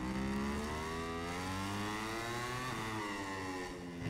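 A motorcycle engine in the video game MotoGP 22 revs hard under acceleration, a loud, continuous buzzing whine that climbs in pitch and dips briefly as the bike shifts, with no talk.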